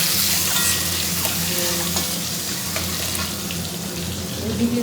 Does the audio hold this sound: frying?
yes